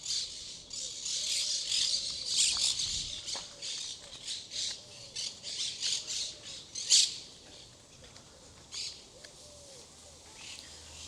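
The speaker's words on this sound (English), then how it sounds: "That's a parrot. That's not ordinary birds." Parrots squawk loudly and harshly near a swimming and picnic spot in Italy, with many overlapping calls repeating in bursts over a steady insect-like buzz.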